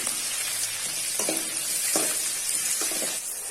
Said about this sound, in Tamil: ஒரு பெரிய தக்காளி இதையும் நல்லா வதக்கி விட்டுறலாம்